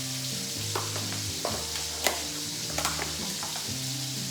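Fresh garlic sizzles steadily in a hot buttered pan while a steak cooks, with a constant frying hiss, low bubbling and occasional sharp clicks and stirring knocks of a utensil against the pan.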